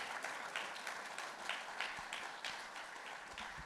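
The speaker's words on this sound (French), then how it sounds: "vous pouvez commencer à l'applaudir déjà" Steady applause from a conference audience, many hands clapping continuously at moderate volume without a break.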